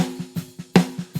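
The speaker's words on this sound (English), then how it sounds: "That's a mic on top of the snare drum." Snare drum heard through a mic on its top head, struck in a quick steady pattern of crisp hits with one louder accent, ringing against a sustained tonal backing.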